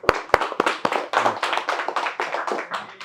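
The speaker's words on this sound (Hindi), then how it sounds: "तो एक बार इनके लिए जोरदार तालियां।" Students in a repair training class clap for classmates, a lively spell of close, sharp hand claps from a small group, starting with a few loud individual claps and then settling into a quick, uneven patter.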